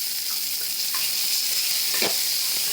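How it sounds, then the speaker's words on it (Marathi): Green pea cutlet mixture of ground fresh peas sautéing with garlic in a pan, a steady bright sizzle and hiss with a few soft scraping stirs; no talking. "आणि चांगलं परतून घेते मिनिटभर परतवलं"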